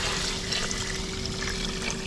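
Water pouring into a pot of kalamansi juice made with the rind, a steady, soft trickle with a faint tonal hum, continuous and fairly quiet.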